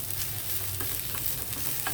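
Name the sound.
tempering frying in pan with coriander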